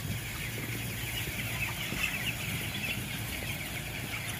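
Broiler chickens cluck and murmur inside a closed poultry house, a constant low chorus of many birds with occasional louder calls over a steady hum of ventilation.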